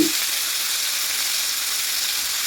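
Beef slices of intercostal meat sizzle steadily in a hot pan while browning, with a constant close, even frying hiss and one small pop at the start.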